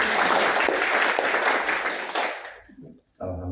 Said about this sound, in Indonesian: Saya mohon tepuk tangan buat Bu Deni.